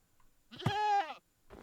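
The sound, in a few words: goat bleating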